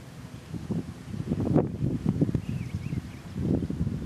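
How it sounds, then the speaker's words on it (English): Wind gusting across an open golf course, a low rumbling buffet against the microphone that swells and eases over a few seconds, close and fairly loud. "Wind's in my face too"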